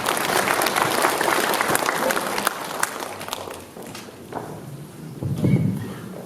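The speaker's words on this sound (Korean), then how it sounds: "박수로 맞으시기 바랍니다." An audience at a residents' briefing on a Samjeon-dong urban redevelopment project claps to welcome a trust company executive to the front, busy applause that gradually thins and fades with some murmuring and movement.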